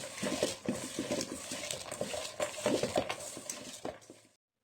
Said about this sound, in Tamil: இது எல்லாத்தையும் போட்டு கையில் இப்படி நல்லா கலரி விடுங்க.